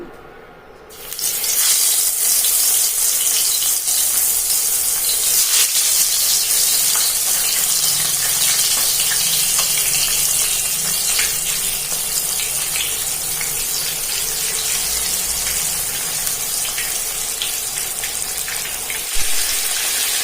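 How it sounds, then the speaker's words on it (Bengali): Koi fish fry in hot oil, a loud, steady, dense sizzle that bursts in after the first second and holds unbroken to the end, with no voices. "তেল গরম হয়ে গেছে, দিয়ে দিচ্ছি তেলের মধ্যে"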